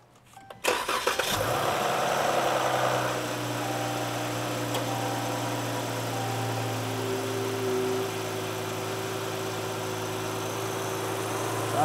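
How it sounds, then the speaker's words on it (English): A car engine cranks and catches after an oil and filter change, then settles into a steady, fairly loud idle that runs on alone with no talking. "So I think right now, Charlie, you can start the car."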